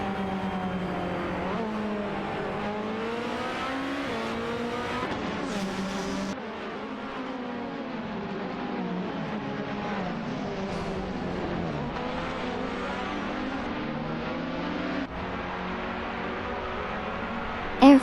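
Race car engines in a racing video game, with a Norma M20 FC and a Praga Roan battling on track, a continuous droning whine of engines that rises and falls as the cars shift and pass, steady at moderate loudness.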